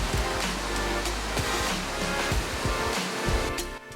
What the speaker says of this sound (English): Just behind the lay-by for the castle is Ardrett Castle waterfall,